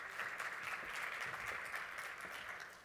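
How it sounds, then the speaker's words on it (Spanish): Audience applause welcoming a presenter at a Spanish-language talk on telecommunications and media, a steady, dense wash of clapping that holds evenly for a few seconds before tapering slightly. "Así que con ustedes dejo a Miguel Calderón, recibámoslo con un aplauso."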